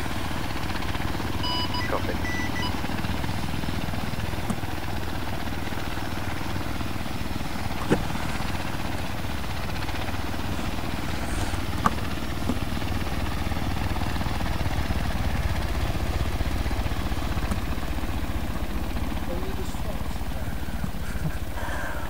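A military helicopter lifting off and departing during an operation, its rotor and engine a steady loud drone throughout with faint thuds, a voice speaking briefly over the noise.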